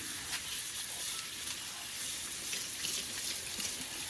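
Cold tap water runs steadily into a sink while rinsing food, a continuous splashing hiss with no talking.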